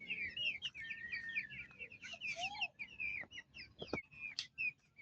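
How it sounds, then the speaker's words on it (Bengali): Free-ranging hens, large and small, cluck and call near the microphone in quick irregular bursts, with a few sharp louder notes and no talking, on a rainy day. "এই যে আমার মুরগিগুলো আলহামদুলিল্লাহ বড় ছোট সবগুলি আমি ছেড়ে দিয়েছি"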